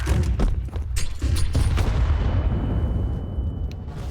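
Booming gunfire and explosions from a ranked video game match, dense and continuous, with sharp repeated shots in the first half giving way to a rumbling wash of blasts.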